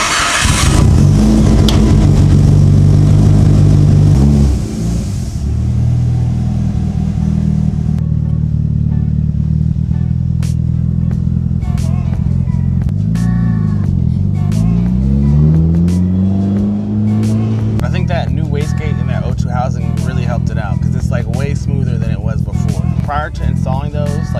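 A Mitsubishi Evo 8 fitted with a new turbo idles and then accelerates hard through repeated rising engine pulls, loud and close, with someone speaking over the engine between the runs.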